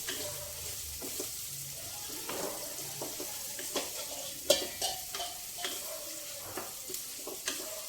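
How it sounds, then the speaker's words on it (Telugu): Onions sizzle in a pan for a prawn gongura dish, a soft steady fry broken by light stirring scrapes and a sharper clink partway through, with faint water-like noise underneath. "ఈ ఉల్లిపాయలు కొంచెం బాగా వేగాలండి."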